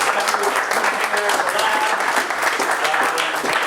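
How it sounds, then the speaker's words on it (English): A crowd applauding steadily, dense sustained clapping filling the room at full volume for the whole stretch, with no talking. "let's give him another round of applause"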